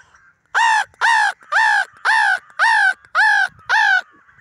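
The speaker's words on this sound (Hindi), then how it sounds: "जो पेड़ पे बैठे हैं अभी ढेर सारे कौवे को मैं उड़ाऊंगा" Seven loud, evenly spaced caws ring out in a steady rhythm, a crow calling close by from a tree against near silence.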